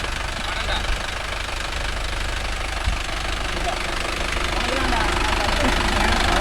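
A Mahindra Yuvo Tech Plus 585 4WD tractor engine runs steadily with a knocking diesel thrum, pulling a nine-tine cultivator in the field, continuous and fairly close with no break.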